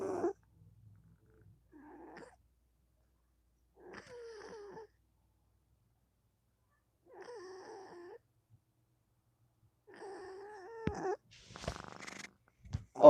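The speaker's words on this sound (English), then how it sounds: "I sucker you guys in with cute kitties" A house cat meows in a few separate bursts with quiet gaps between them, close and fairly soft, followed by a brief rustling clatter at the end.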